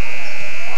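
Loud, steady end-of-quarter buzzer at a basketball game between Logan and Skyview, a sharp tonal blare holding for under a second over faint crowd noise.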